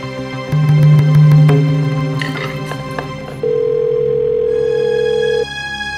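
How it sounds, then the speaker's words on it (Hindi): A landline telephone rings indoors in a family home, its electronic tone sounding in two long, loud bursts close by with no talk over it. "ना गोपी वो, मैं उठाती हूँ फोन"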